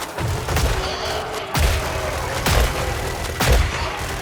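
Automated turret fire in the co-op zombie shooter Killing Floor 3: a dense, continuous barrage punctuated by heavy bursts roughly every second, loud and close, with no voices over it.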